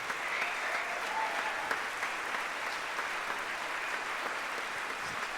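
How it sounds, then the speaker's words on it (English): A piano concert audience gives a sustained round of applause, an even, dense wash of clapping from a large room, heard from some distance and staying steady throughout. "I'd love you to give them all a round of applause"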